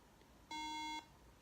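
A MacBook with its RAM removed gives a single steady electronic beep at power-on, about half a second long, clear and tonal against a quiet room hiss.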